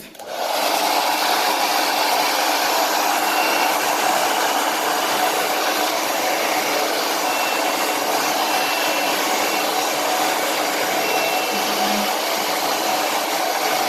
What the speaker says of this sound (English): just take the blow dryer and just blow dry it down